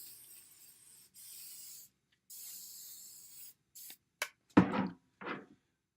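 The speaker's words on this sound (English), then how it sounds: "pick the shape, and spray it again" Several short bursts of hissing aerosol spray, close up, the later ones sharper and louder, separated by brief pauses.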